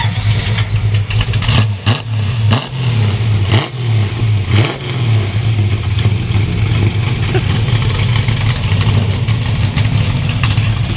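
A 1968 Chevrolet Camaro in full original paint revs hard and close by, its deep engine roar rising and falling in several surges over a steady rumble.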